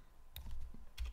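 A few quick keystrokes on a computer keyboard while entering a name in a Linux theme configuration, soft and close, clustered in two short bursts.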